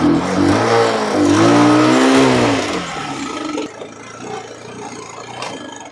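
A motorcycle engine revs hard with a rising and falling whine, then cuts out and stalls, leaving quieter background noise and a voice afterward.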